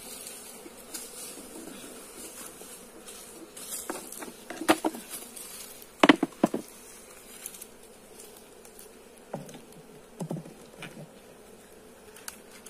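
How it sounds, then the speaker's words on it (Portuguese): Honey bees swarm and buzz around an open beehive at a feeding between honey harvests, a steady insect drone with scattered clicks and taps from handling the hive, and no voices. "Só que tem bastante abelha."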